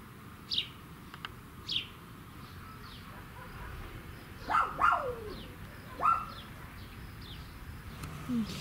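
Dogs bark in short bursts at a country house in the south of Russia as parents arrive, several yelps spaced apart over soft outdoor ambience, with birds chirping faintly in the background.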